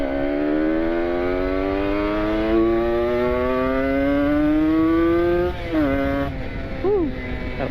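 A motorcycle fitted with an R9 Carbon exhaust revs on a night ride in Bandung, the engine note climbing steadily and loudly, then dropping and surging again in short blips near the end.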